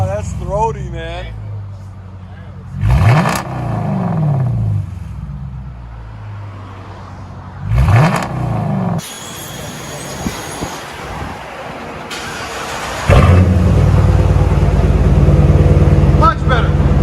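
A Dodge Charger with a 5.7L HEMI V8 revving through an aftermarket exhaust, loud blips rising and falling in separate bursts close by, followed by a sustained roar, with people talking nearby.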